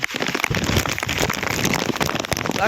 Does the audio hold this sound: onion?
no